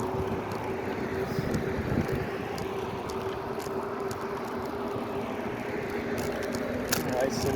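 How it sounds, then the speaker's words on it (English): Wind rushes past the microphone while riding a bicycle along Fort Myers Beach, Florida, a steady broad blustery roar filling the whole clip at moderate level. "So the wind is at my back."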